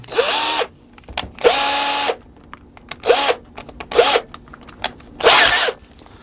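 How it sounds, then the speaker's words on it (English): A power drill fitted with a countersink bit whirs in six short bursts with pauses between, each spin rising and settling in pitch, close and loud with no talking. "I'm going to use a countersink tool that you can get in the hardware store and a drill."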